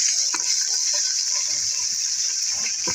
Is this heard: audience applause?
no